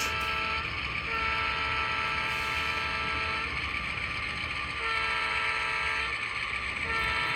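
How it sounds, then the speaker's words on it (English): A train horn blows for a road crossing in long sustained blasts over the steady rumble of a passing train, loud and close. "You can hear the horn blowing for the crossing there at Cherry Street."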